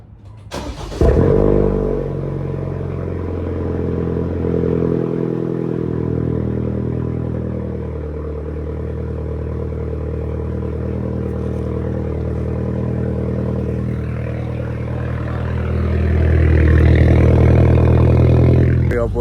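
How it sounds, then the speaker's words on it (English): A BMW with a straight-pipe exhaust cold-starts with a sharp crank and catch, then settles into a loud, raspy, uneven idle up close, with a deeper rev swelling near the end. "It's the next day of getting my straight pipe, so we're gonna hear a little cold start."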